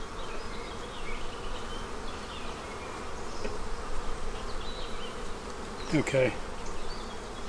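Honeybees hum in a dense, steady buzz close by during a hive inspection in a bee yard, with brief brushing and handling sounds midway and a short spoken word.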